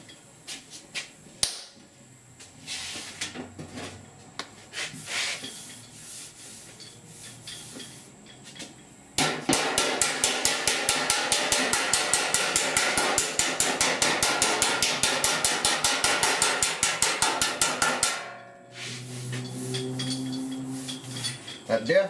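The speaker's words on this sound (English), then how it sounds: "So let's do a little bit of hammer and dolly work." Hammer and dolly work on a sheet metal door shell: a long run of rapid, evenly spaced metallic hammer blows, loud and ringing, framed by quieter handling noise before and after.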